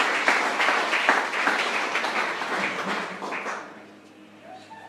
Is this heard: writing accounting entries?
no